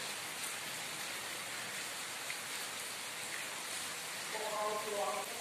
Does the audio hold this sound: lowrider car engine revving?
no